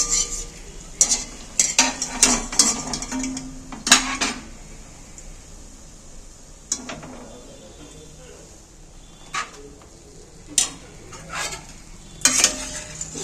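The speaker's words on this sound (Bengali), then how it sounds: "এখানে যে রস করে রেখেছি আমি একবারে গরম গরম রসের মধ্যে তুলে দিচ্ছি" Hot fried palm sweets for Janmashtami are lifted into warm sugar syrup, bringing loud metal clanks of a spoon against the pot, light clinks and soft sizzling, while a person talks over the clatter.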